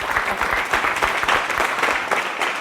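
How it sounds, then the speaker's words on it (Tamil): A full hall of listeners at a Tamil speech competition applauds, a loud, dense and steady burst of many hands clapping throughout. "ஒரு அரங்கம் நிறைந்த கைத்தட்டல் கொடுத்துடலாம்"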